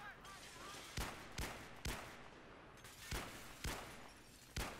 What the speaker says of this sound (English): I just shot a dead guy 5 times